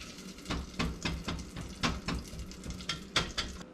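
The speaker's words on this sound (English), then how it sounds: "You can hear that sizzle." Brown sugar and butter being stirred in a pan for toffee give off a soft, uneven sizzle and crackle, with faint bursts of bubbling and scraping close by, quiet and without any voices.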